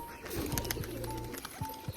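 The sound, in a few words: pigeon cooing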